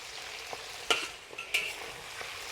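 French beans blister in hot oil while being stirred, giving a soft continuous sizzle broken by a couple of sharp crackling bursts and light scraping, with no talking.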